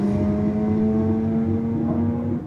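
A Mazda FD RX-7 rotary engine at a drag strip holds a steady, buzzing high-rev drone for a couple of seconds, loud and fairly close, before it starts to fade.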